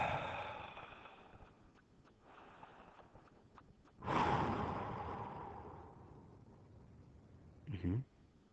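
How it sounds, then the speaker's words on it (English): A man breathes heavily near the microphone in long, soft exhales, with one loud, drawn-out breath midway and a short, sharp puff near the end, faint and otherwise alone. "I'm going to do some heavy breathing for you guys so as to distract you."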